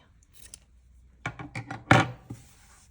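Scissors snip through yarn while a crocheted V-line bag is being finished: a few quiet handling rustles, then a quick run of sharp close cuts ending in one louder snip.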